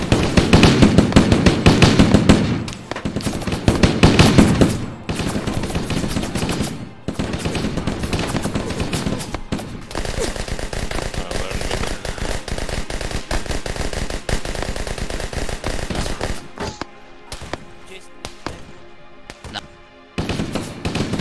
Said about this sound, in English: we're firing to the south